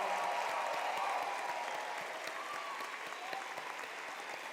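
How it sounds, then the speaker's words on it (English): A large crowd at a university convocation ceremony claps steadily in sustained applause, an even wash of many hands with no voices standing out. "one last congratulations and a round of applause to all of you who made it here today"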